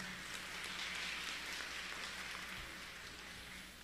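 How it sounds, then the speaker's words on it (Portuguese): A large audience claps in steady, dense applause throughout at the opening ceremony of the Nossa Senhora das Dores church festival in Canindé, Ceará, with the sound slowly fading toward the end. "Queremos saudar a todos com a calorosa salva de palmas."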